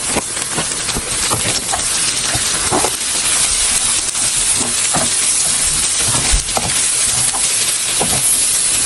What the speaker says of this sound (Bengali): আর এখানে তিন কাপের মতো পেঁয়াজ আছে সব আমি ভেজে নিচ্ছি